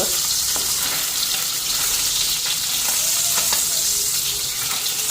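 Fish frying in a pan in a home kitchen, giving a loud, dense, continuous sizzle and crackle throughout with no voices.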